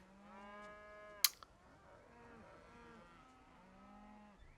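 Cows moo in the post-apocalyptic role-playing game Wasteland 2, giving several long, low, drawn-out calls that overlap faintly, with a brief sharp click early on and no speech.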